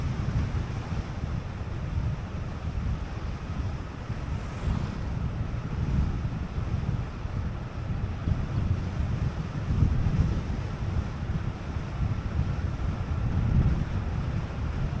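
Steady wind rushing across the microphone with a low rumbling roar, continuous throughout, with no voices.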